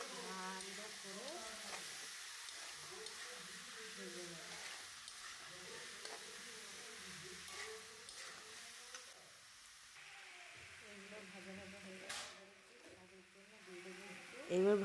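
Small potatoes frying with capsicum and peas in a pan, a soft steady sizzle with stirring scrapes throughout, fairly quiet, with a brief louder knock near the end.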